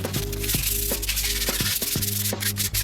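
A car body is hand-sanded with 120-grit sandpaper in steady, close strokes, producing a continuous loud rasping rub with a rhythmic back-and-forth pulse about twice per second and no voices.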